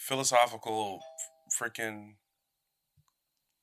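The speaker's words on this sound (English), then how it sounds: "That was a doorbell?" Doorbell chimes during a podcast recording, a short electronic tone ringing under people talking, then quiet.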